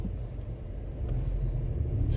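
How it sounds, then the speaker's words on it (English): A car moving slowly along the middle of a road in Langa, Cape Town, heard as a low, steady engine rumble that stays close and grows slightly louder toward the end, with no talking. "This guy's just driving at his own speed here, in the middle of the road."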